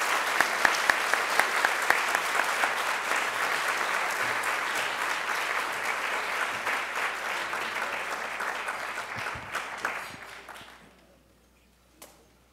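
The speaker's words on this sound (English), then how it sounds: "How about a big hand of applause?" Loud, sustained applause fills a New York gala dinner hall at the 2015 Calvin Coolidge Presidential Foundation event, holding steady for about ten seconds before quickly dying away, with one last isolated clap near the end.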